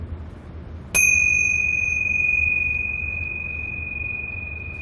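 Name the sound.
meditation bell ringing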